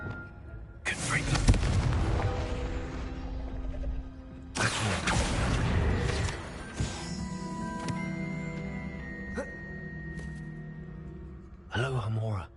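A Confringo fire spell blasts in a Hogwarts wizarding video game, booming explosions with a long rumbling tail around the first and fifth seconds, followed by fainter game effects and a sharp burst near the end.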